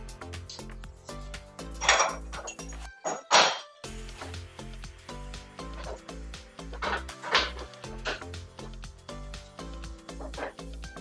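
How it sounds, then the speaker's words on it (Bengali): A metal top cover being fitted onto a Luminous Eco Volt 2300 inverter, producing scattered close metallic clanks and knocks at an uneven pace, with a couple of louder bangs and a steady background hum. "এবার আমরা উপরে ঢাকনাটা লাগাবো"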